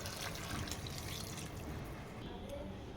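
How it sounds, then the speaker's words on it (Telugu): Water splashes and streams steadily into a pressure cooker holding tomato dal, a continuous close pouring sound with faint clatter. "ఇప్పుడు వాటర్ వేసుకోవాలి"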